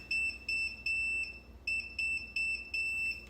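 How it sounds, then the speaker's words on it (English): A red light therapy traction pillow's alarm sounds as repeated sharp, high electronic beeps in short rhythmic bursts, fairly close and clear over quiet background. "So that's the alarm you're gonna hear until you turn it off."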